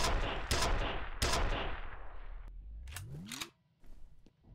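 Rapid gunshots from a video game weapon crack out loud and close in quick bursts, followed by a rising mechanical whine and a few sharper cracks near the end.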